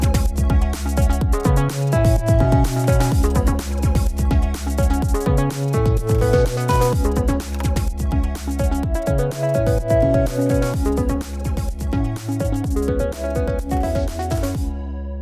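Eight-track electronic music made on a Synthstrom Deluge, heard raw before mixing: a steady, punchy drum pattern with deep bass and layered synth parts, dense and loud throughout, stopping abruptly near the end.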